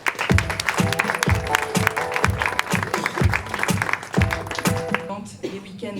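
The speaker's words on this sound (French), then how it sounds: "Merci de les applaudir" Wedding guests applaud the couple, clapping heard alongside strongly rhythmic music with a pounding regular beat, the sound dense and close before thinning at the end.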